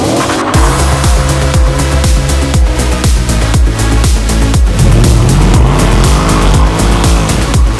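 A BMW M3 E90 with its 420-horsepower V8 driven hard: loud, close engine revs rising and dropping in repeated rapid sweeps through gear changes, with tyre squeal woven through, and no voices.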